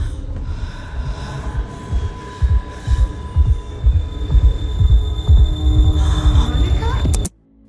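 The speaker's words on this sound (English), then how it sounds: "replaced with a piercing tone and Monica's heartbeat" A steady high-pitched ringing tone hangs over a deep, throbbing heartbeat pulsing in slow rhythm in a WandaVision scene, both loud and close, cutting off abruptly at the end.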